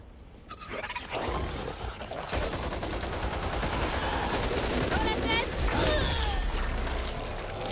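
Gunfire in the Back 4 Blood video game, a sniper rifle among dense battle noise, with loud continuous shooting, impacts and mechanical clatter throughout and a voice speaking partway through.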